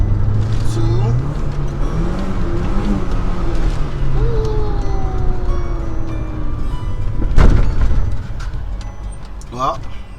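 An Audi A3 with a six-speed gearbox accelerates with a rising engine drone and road noise heard from inside the car, while a person talks over it throughout.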